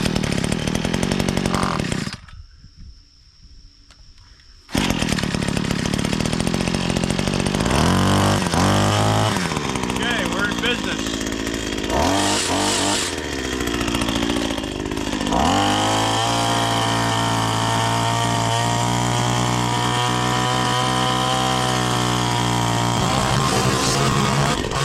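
A Wild Badger all-in-one power tool's small gas engine sputters, cuts out briefly, then fires up and runs loud and close with a buzzing chainsaw-like drone, revving and settling into a steady high idle.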